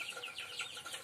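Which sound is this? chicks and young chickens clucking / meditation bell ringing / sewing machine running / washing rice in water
chicks and young chickens clucking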